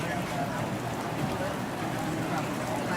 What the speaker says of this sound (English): it would sound better if I could hear the rain a little bit more than the actual coffee sounds